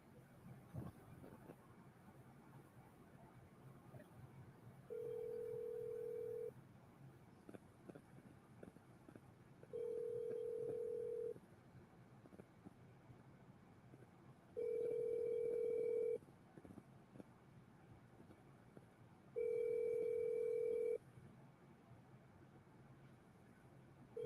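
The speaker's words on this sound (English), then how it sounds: "I'm calling Colin right now." An outgoing phone call rings four times, each ring a steady tone about five seconds apart, heard faint over a quiet background of low room noise.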